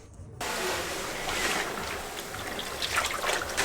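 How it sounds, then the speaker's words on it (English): Hands wash laundry in cold water in a mountain village on a Himalayan trek, a steady close splashing and sloshing of water and wet fabric that continues throughout. "I'm doing laundry, but the water's freezing"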